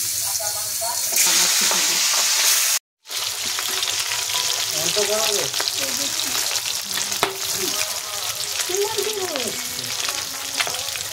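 Pieces of boal fish fry in hot oil with a loud, constant, close sizzle and crackle, briefly cut off once, while faint voices murmur in the background.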